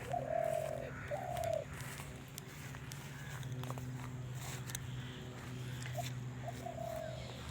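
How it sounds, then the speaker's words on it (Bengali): In a garden at Banobitan in Salt Lake, with mandevilla flowers and creeping fig, a dove or pigeon gives soft, low coos, two early and one near the end, over a faint outdoor hum and light rustling. "পাখির ডাক খুব সুন্দর শোনা যাচ্ছে"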